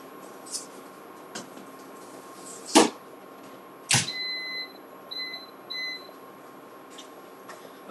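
An air fryer beeps as garlic bread goes in, giving a series of short electronic beeps in two tones after a couple of sharp clunks of the basket and door, with quiet kitchen background.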